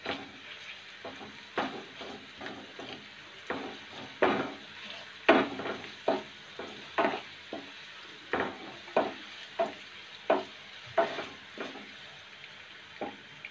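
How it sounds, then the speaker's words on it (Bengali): Chopped onion and garlic fry in a pan for chicken liver bhuna, a soft sizzle under regular scraping stirs with a spoon, each stroke a distinct clack repeating about once a second, close and alone. "পেঁয়াজটা আমি ভেজে নেব।"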